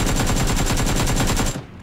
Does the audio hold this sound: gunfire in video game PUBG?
yes